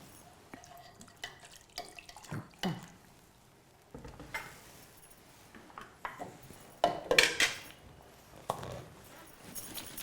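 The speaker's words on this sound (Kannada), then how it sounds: "ಸ್ವಲ್ಪ ನೀರು ಹಾಕ್ಬಿಡಿ ಈ ಮುಚ್ಚಳ ಮುಚ್ಚಿಬಿಟ್ಟು ಹಾಂ ಶೇಕ್ ಮಾಡಿಕೊಟ್ಬಿಡಿ" A lidded pot with a little water is shaken in a kitchen, giving close sloshing splashes and metallic knocks in uneven bursts separated by brief quiet gaps.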